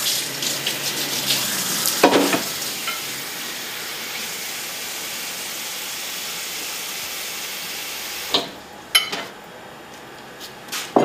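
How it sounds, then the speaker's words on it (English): Fairly warm water runs steadily from a tap into a bowl as a broad, even hiss lasting several seconds, ending with a few splashes and clinks. "So we're going to put fairly warm water in the bowl."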